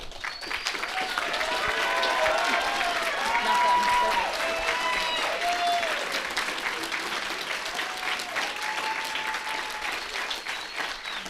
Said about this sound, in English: please stand so we can honor you with a round of applause